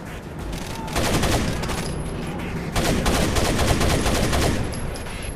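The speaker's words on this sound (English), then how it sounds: "Wow, using an AK." AK rifle fire in the video game Rainbow Six: Vegas 2, loud rapid automatic bursts in two main volleys with only brief gaps between them.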